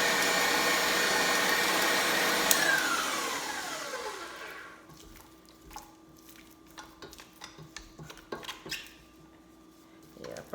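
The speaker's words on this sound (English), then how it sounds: "I do a lot of baking, so that's why I have a big mixer," A big stand mixer whirs loudly while mixing sweet potato pie filling, the motor pitch sliding as it winds down after a few seconds; quieter clinks and handling noises follow once it stops.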